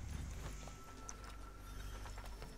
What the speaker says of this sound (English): Mount a horse.